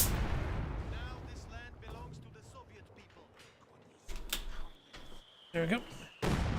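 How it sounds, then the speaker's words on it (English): Mortar fire trading back and forth in Company of Heroes 2, with several sharp booming blasts toward the end, mixed with other game sounds and intermittent talk over a low background. "all here is just mortars firing away against each other"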